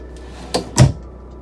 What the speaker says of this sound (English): I'm not sure what this is, but that's a drawer